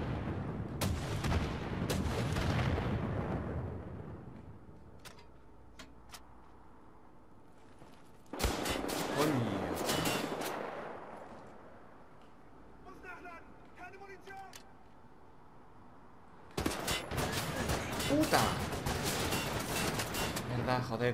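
Turret gunfire in the shooter game Wolfenstein: The New Order, loud sustained bursts of heavy automatic fire separated by quieter stretches, with someone talking over the action.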